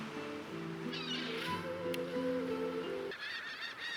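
A black cat in the video game Divinity Original Sin 2 gives a few drawn-out, wavering meows over a steady tonal game-music bed, fairly close and clear.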